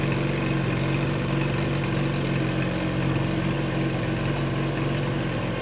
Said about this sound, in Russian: Итак, первый запуск мотора после сборки.